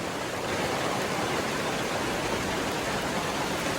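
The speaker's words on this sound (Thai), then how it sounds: "ตอนนี้ฝนตก" Steady, dense hiss of rain pouring down outdoors on a muddy rural road, a loud, even wash filling the whole moment with no pauses.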